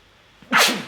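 Someone close by lets out a single loud sneeze, a brief sharp inhale followed by an explosive burst that dominates the moment.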